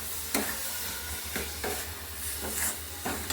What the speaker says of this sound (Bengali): নারকেলটা দিয়ে দিল খেজুরের গুড়ের মধ্যে, এবার নেড়ে নিচ্ছে ভালো করে